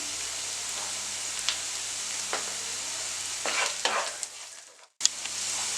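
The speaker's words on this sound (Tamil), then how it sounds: "இப்போ வெங்காயம் வதங்கிடுச்சு." Onions sautéing in a pan for kale poriyal, a low steady sizzle with occasional spatula scrapes and stirring strokes near the end, then a brief pause and the frying resumes; no talk.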